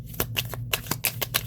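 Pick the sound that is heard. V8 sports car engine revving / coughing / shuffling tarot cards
shuffling tarot cards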